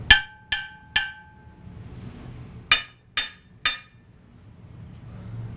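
Damaged old Siberian bells that have lost their tone are struck in two quick groups of three. Each hit is a short, dull clank that dies away almost at once, with no ringing sustain, and a brief pause separates the groups.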